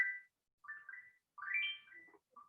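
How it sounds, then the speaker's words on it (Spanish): A telephone rings during a press conference: a few short, melodic electronic tone phrases with brief gaps between them, clear against an otherwise silent room. "Está sonando el teléfono."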